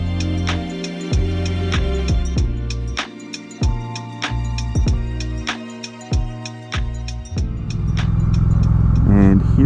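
A motorcycle rides along the road, its engine rising and dropping in pitch with each gear change, loud and close, with wind building at the end.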